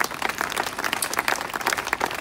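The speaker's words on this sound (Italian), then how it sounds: "Un applauso anche a Vittorio." Audience applause after a concert by a small ensemble in Cerveteri, a dense, steady patter of many hands clapping at moderate volume throughout, with no talk over it.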